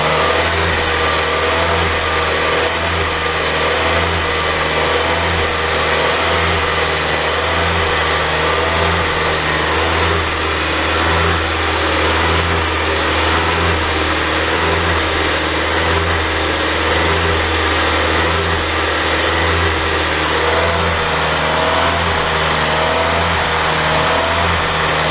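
A 2013 Hyundai Kia 2.4L engine runs steadily while intake cleaner is sprayed into its intake, a loud, continuous drone with a low rhythmic pulse and faint fluctuations in speed, with no voices throughout.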